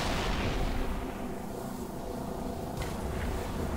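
Halo 3 gameplay gunfire and booming blasts rumble on without a break at low volume, dense and distant. One sharper crack stands out near the end.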